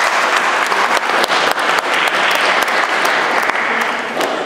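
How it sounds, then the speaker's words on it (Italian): Audience applause at an Italian conference debate in a villa hall, a dense, steady burst of many hands clapping close by for several seconds. "Prego un grande applauso."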